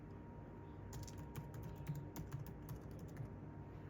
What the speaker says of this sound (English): we'll have to type the command